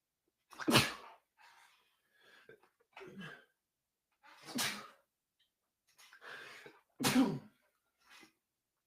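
Several sneezes spaced a couple of seconds apart, each a sharp burst with softer breathy sounds between, close to the listener.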